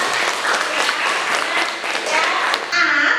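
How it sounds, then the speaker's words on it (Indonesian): A classroom of students applauds a classmate named Salsa, a dense, lively clapping that is loud and close, with a voice briefly audible near the end. "beri tepuk tangan untuk Salsa"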